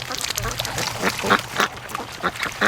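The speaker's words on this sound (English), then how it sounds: "Ducks behind us." Free range ducks quacking near a person, a scattered series of short nasal quacks over a steady outdoor rumble, with voices talking alongside.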